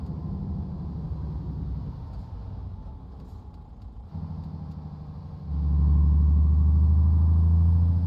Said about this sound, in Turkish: bozuk yola girdiğindeki arabadan gelen sesler efsane olmuş